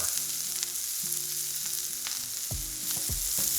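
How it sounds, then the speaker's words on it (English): Green onions sizzle and fry in a very hot pan, a steady loud hiss with a few stirring clatters and bumps near the end, no talking. "I'm gonna toss my green onions in there."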